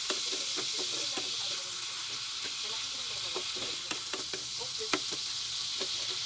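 Corned beef sizzles steadily in a pan while vinegar is stirred through it, a continuous close frying hiss punctuated by soft scraping clicks from the utensil, with no talking.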